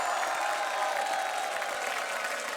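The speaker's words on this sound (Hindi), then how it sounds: "तो इनके लिए तालियां हो जाएं भरपूर" A studio audience at a Hindi television comedy show applauds a guest's entrance, a dense, continuous wash of many hands clapping at an even level throughout, with no voices breaking through.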